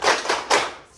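In a religious-studies classroom, a group does a quick rhythmic cheer clap: three sharp, close bursts of hands clapping in quick succession within a second.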